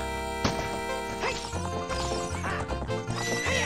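In an Ocarina of Time hack video game, a horse gives a loud whinny while hooves clip-clop at a gallop over game music and sound effects.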